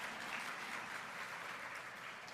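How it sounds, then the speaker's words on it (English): Faint, steady applause comes from an audience at a Women of Power Summit and continues evenly through the short stretch. "Yes, go ahead and clap it up."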